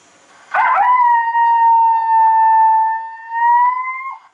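A loud electronic howl from an Icotec 300 Gen 2 predator call, turned up to max, rises from a brief burst and holds a steady wavering tone for several seconds, like a recorded wolf howl played through a speaker.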